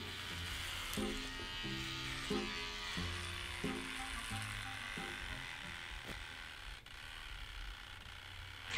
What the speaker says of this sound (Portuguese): A máquina não tá cortando meu cabelo